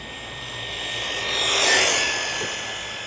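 An RC car's electric motor runs at full throttle, a whining buzz that swells louder as the car passes closest around the middle and fades away again. Nobody speaks.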